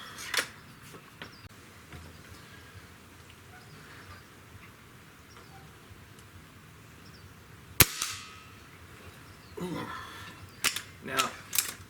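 A Crosman TR77 air rifle fired at a shotgun shell target: a sharp single crack near the middle after a stretch of quiet outdoor ambience, followed by softer mechanical clicks and handling noises.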